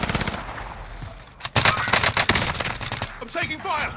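Rapid machine-gun bursts and scattered gunshots from a shooter video game crackle loudly throughout, with a brief lull before a dense volley, and a faint voice mixed in.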